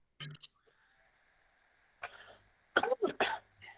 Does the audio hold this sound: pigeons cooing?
no